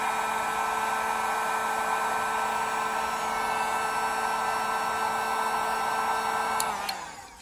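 A hair dryer blows heat onto the parts of an action figure, a continuous close whirring roar with a steady tone that holds throughout and then winds down at the end, with no voices.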